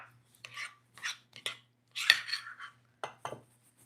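A utensil scraping food into a container while making high-protein snacks, heard as a series of short scratchy scrapes and clinks, irregular and close, with quiet gaps between strokes and no talking.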